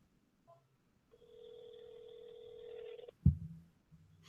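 Phone dialing tones, a short blip followed by a long steady electronic tone held near the mic, then a sharp click and a brief low burst, with no talking.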